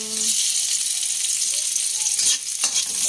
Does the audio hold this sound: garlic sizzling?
yes